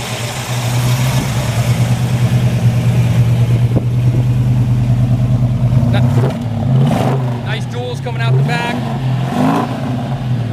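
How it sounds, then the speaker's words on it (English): A 1947 Ford coupe's exhaust idles with a low, steady thrum, then burbles and revs up and down, loud and close, with a voice talking briefly. "I'll go ahead and show you what the exhaust sounds like on this thing."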